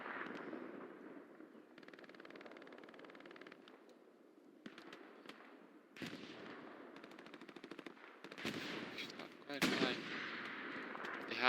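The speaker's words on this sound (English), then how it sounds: "Artillery is just dominating the south side." Artillery and gunfire in the WWII shooter game Hell Let Loose: bursts of machine-gun fire and heavy distant blasts come in uneven waves, growing louder and denser toward the end, with no clear talk.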